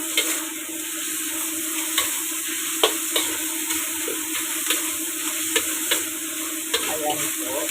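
Eggplant fries in hot oil in a pan, giving a steady close sizzle with faint clicks of stirring now and then, and no talk.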